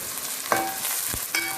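Onions and curry leaves sizzle in a pan while a wooden spatula stirs them, giving two short scraping strokes over a steady, close frying hiss.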